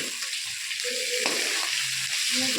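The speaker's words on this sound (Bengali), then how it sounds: "এখন আমি শাকটা করছি দেখো ভাজা হয়ে এসছে একটু লাল লাল করে ভাজতে হবে" Leafy greens sizzle and crackle steadily in a hot pan, with faint scraping of a spatula stirring them now and then, close and continuous.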